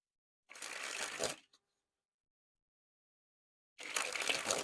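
Zebra King Slayers playing cards sprung from hand to hand in two crisp, dense bursts of fluttering riffle, each under a second, separated by a pause of silence.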